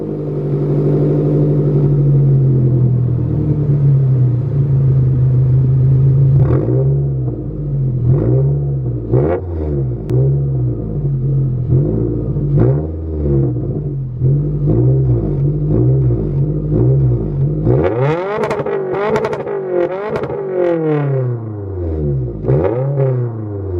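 A Scion tC with a performance exhaust idles with a low, steady rumble, then revs repeatedly in rising and falling bursts that finish in a run of sharp, louder high revs, close and with no talking.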